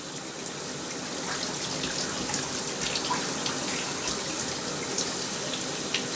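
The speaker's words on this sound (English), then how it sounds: "She likes taking showers." Shower water runs steadily and loudly over a pet monkey being bathed, a dense continuous spray with occasional splashes and drips and no speech.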